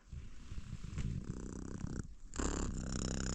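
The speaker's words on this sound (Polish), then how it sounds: "Kiciuś przejął fotel" Cat purring close up in an armchair, a steady rumbling purr in rhythmic breaths with a brief pause midway, quiet and with no talking.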